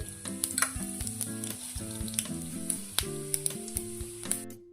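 Mustard seeds and cumin crackle and sizzle steadily in hot oil in a kadhai on a gas stove, with sharp pops scattered through a continuous frying hiss; close and fairly loud, with no talking.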